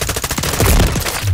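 Rapid automatic gunfire from the Call of Duty video game, dense bursts of machine-gun fire and shots rattling continuously at close range and loud throughout.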